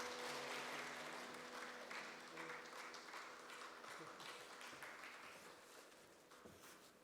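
Applause from a church congregation during a Sunday service fills the room, a steady broadband clapping that is loudest at the start and gradually thins and fades over several seconds, with no talk over it.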